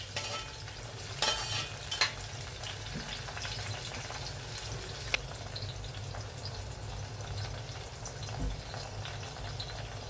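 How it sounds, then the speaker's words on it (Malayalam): Onions frying in a pan for a sardine chutney, a steady sizzle with scraping and scooping clatters of a spoon against the pan, close and moderately loud with a few sharper knocks. "ഞാൻ എത്ര ശ്രമിച്ചാലും സൗണ്ട് ഇല്ലാതെ ഇത് കോരി എടുക്കാൻ പറ്റത്തില്ല."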